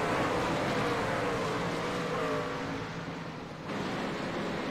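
Race trucks at Eldora dirt track roar together as the pack accelerates on a restart, a loud continuous engine drone heard from a distance that dips briefly and then swells again.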